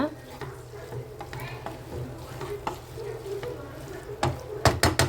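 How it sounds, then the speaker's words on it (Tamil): Prawn gravy stirred in a pan, with repeated scraping and clinking strokes of a spoon against the metal over a soft bubbling sizzle. The strokes grow louder and quicker toward the end. "இப்போ பாருங்கள், நல்லா மிக்ஸ் பண்ணி அதுக்கப்புறம் மூடி வைங்க."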